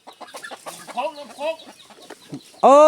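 Chickens clucking in a series of short, varied calls at close range, ending in a sudden loud, drawn-out squawk.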